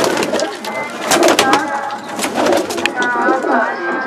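Pure Malwai racing pigeons from Tarn Taran, Punjab, coo and flutter close by in repeated soft calls, with someone talking over them.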